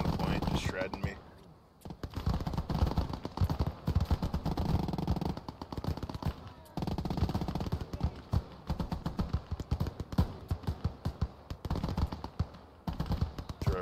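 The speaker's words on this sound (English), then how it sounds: "He's got MG42s all around the point, just shredding me." MG42 machine guns rattle in rapid bursts during a Gates of Hell Ostfront battle, dense and continuous near and far, with a voice talking over the gunfire.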